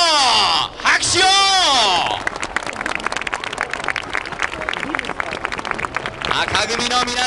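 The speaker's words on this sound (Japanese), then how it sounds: "拍手を。" An announcer's amplified voice gives way to dense, sustained applause from a large crowd welcoming the red team at a Yokohama F. Marinos fan appreciation event, with the voice returning briefly at the end.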